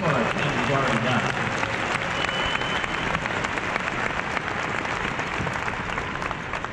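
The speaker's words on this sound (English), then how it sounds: "give yourselves a round of applause for the enormous, historic thing you've already done" A large convention crowd applauding, a thick, continuous roar of clapping that fills the hall and holds steady, tapering slightly at the end, with faint voices beneath.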